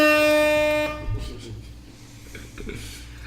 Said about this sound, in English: Hey, where my air horn? That's the air horn.